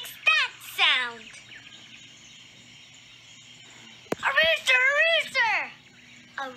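A voice imitates a rooster crowing twice: two rising-and-falling calls, a quiet pause, then a longer, louder crowing burst.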